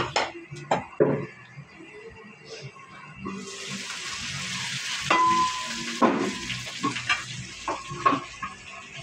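Dried fish (tuyo) fries in a pan with a steady broadband sizzle, broken by sharp clinks and scrapes of stirring close by, with no talk.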